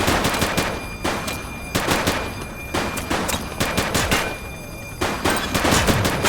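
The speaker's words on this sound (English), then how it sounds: "Shots fired!" Bursts of automatic gunfire crack repeatedly in the police video game The Precinct, loud close volleys separated by short pauses across the whole stretch.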